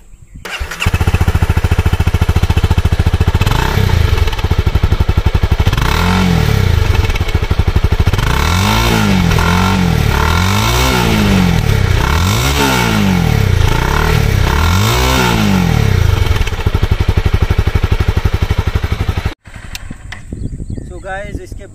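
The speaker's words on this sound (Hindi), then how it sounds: "चलिए आपको पहले इसका एग्जॉस्ट सुनाता हूँ।" The exhaust of a Honda CBR250R Repsol Edition motorcycle idles loud and close, then rises and falls through a series of sharp revs before the engine cuts off near the end.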